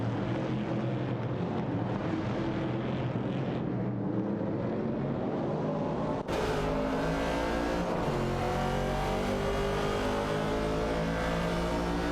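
Engines of race cars, including a Plymouth Barracuda, drone and rev continuously in a video game race, with a sharp shift to a louder, fuller engine roar partway through.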